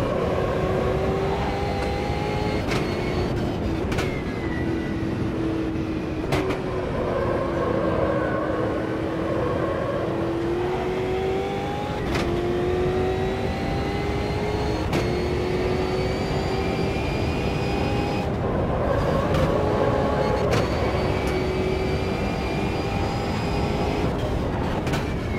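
V8 stock car engines race around the Brasilia circuit in a VR racing game, a continuous whining engine note rising and falling with throttle and gear changes, with occasional sharp shift blips over steady road roar.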